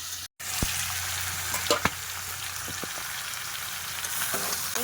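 Country chicken pieces and potatoes sautéing in spiced masala in a pan, a loud continuous sizzle with occasional clinks and scrapes of stirring, close up and without speech.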